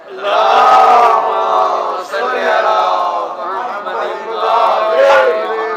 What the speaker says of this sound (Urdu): ایک دفعہ آواز بلند نعرے سلوات